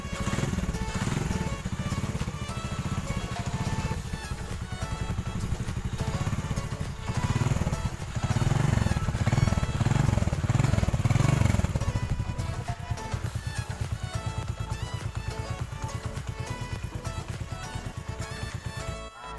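A modified contest-built Honda 70 motorcycle, based on a Honda Grand, runs with a steady, loud, close-up engine drone and a rough buzzing note that rises briefly in the middle.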